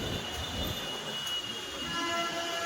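Train noise at Raipur railway station, a steady rumbling roar of rail cars with faint wheel squeal, loud and continuous throughout with no talk.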